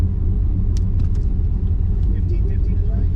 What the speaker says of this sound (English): Now a little less burnout.